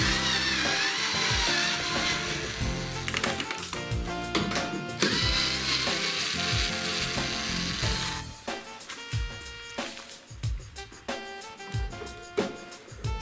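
Bolts being unscrewed on a Candy or Indesit washing machine with a non-separable glued drum, a power tool whirring steadily for about eight seconds, then loud ratcheting clicks and knocks near the end.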